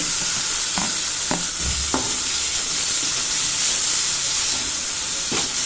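Onion and tomato fry in hot oil for a Tamil capsicum gravy, a steady sizzle and hiss running throughout, with occasional stirring clinks and scrapes against the pan, close and fairly loud, no talking.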